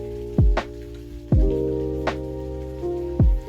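Rain at the Château de Freyr falls as a few heavy, scattered drops, each a sharp, close tap, spaced irregularly over a faint steady hum.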